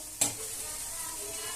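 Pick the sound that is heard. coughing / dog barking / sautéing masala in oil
sautéing masala in oil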